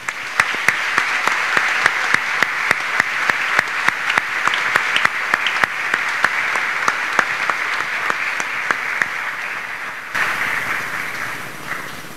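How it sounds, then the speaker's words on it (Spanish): A church congregation gives sustained applause for a newly ordained deacon, a broad, even clapping crowd with sharp individual claps standing out, the ovation thinning slightly toward the end. "Un aplauso al nuevo diácono."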